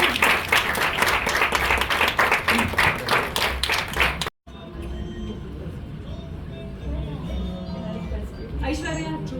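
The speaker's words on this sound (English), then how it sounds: "Can I have a round of applause for them?" An audience at a movie premiere in Dubai claps loudly and steadily for about four seconds, then the applause cuts off and a voice speaks over a noisy hall.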